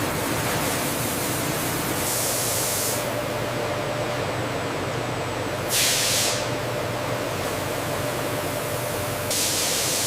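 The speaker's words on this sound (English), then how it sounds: "Next, a high-volume, low-pressure spray rinse ensures a final," High-volume, low-pressure spray rinse washing raspberries in a processing factory, a steady loud hiss of water running continuously, with brief brighter bursts of spray every few seconds.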